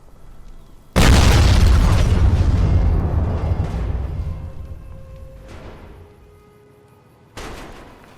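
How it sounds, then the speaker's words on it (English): A loud explosion blows up Veronica in Fallout: New Vegas: one sudden, heavy blast that rumbles and slowly decays over several seconds, followed later by a second, smaller sharp boom. "so I tried to explode Veronica to see what would happen"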